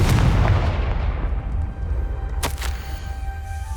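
Confringo blasting curse from Hogwarts Legacy, a loud booming explosion at the start that rumbles and decays, followed by a couple of sharp crackling bursts midway over a lingering low roar.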